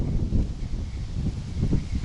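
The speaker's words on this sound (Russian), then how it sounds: "Поднялся сильный ветер," Strong wind blowing steadily at an outdoor fishing spot, a continuous low rumbling buffet against the microphone with slight gusts, no talking.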